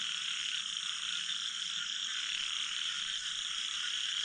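Several small frogs at Challakere call together in a steady, continuous high-pitched trilling chorus, fairly close and unbroken throughout.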